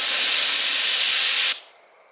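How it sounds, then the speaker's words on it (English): A 10-ounce bear spray canister fired outdoors, letting out a loud, steady pressurized hiss that cuts off abruptly after about one and a half seconds, leaving near silence. "A 10-ounce can of bear spray should give you just over 7 seconds of spray"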